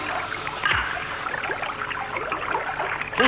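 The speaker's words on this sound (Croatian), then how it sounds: "Pustite vodu u ronilačku komoru, pustite vodu u ronilačku komoru." Water flooding a diving chamber in a cartoon, a steady rushing, bubbling trickle at moderate loudness with a couple of heavier surges.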